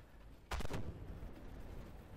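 A single tank gun shot from the WZ-1224 in the tank game Armored Warfare, one sharp close blast over steady engine rumble and background noise.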